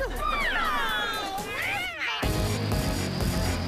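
A voice imitates a cat's meow with sliding, wavering tones, then a burst of crowd noise and cheering takes over.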